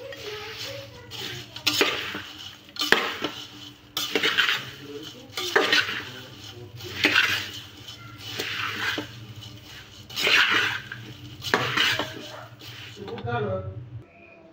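Thin poha chivda is tossed and stirred in a metal pan, with a spoon scraping and clinking in repeated bursts, close and fairly loud, and someone talks quietly underneath.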